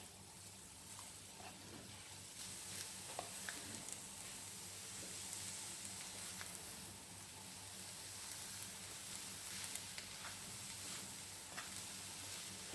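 Cabbage and grated coconut stir-fry in a pan for a Sadya-style thoran, a soft continuous sizzle with faint stirring scrapes, fairly quiet and steady.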